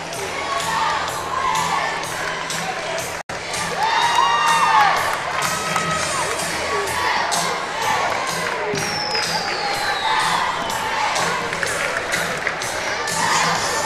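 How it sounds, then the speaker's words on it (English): A crowd cheers at a Fort Gibson school basketball game, shouting and whooping continuously from both sides, with sneaker squeaks and a rising swell of voices that stays loud throughout. "You can hear the crowd getting into it on both sides."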